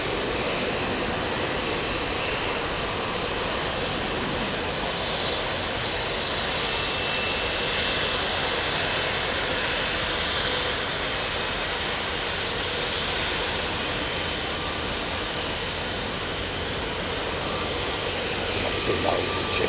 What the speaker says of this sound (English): Tom's Japan Airlines did an early go around, now back on finals.